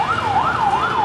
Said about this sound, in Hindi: एम्बुलेंस के सायरन बजने लगे।